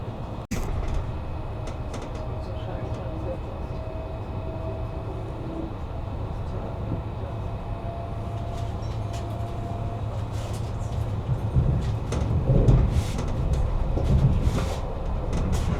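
Interior of an ÖBB Railjet New Generation train (RJ 84) under way, a steady low rumble and rolling hum with occasional clicks and knocks, growing slightly louder toward the end, with no talking.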